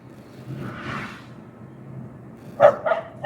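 A few short dog barks sound near the end, quick and moderately loud, from a dog chasing a moving car, after a stretch of low background rumble and faint noise.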